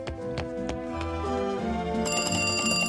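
A telephone rings in a SpongeBob SquarePants cartoon, a bright trilling electronic ring rising near the end over cartoon music and effects.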